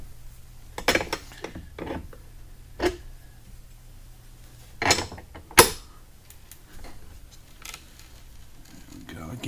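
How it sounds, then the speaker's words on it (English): A 3/4 inch open-ended wrench tightening a bolt down through wood: a few scattered clicks, creaks and ratcheting metal scrapes close by, separated by quiet gaps over a faint low hum. "I can hear the bolt pulling up through the bottom of the wood"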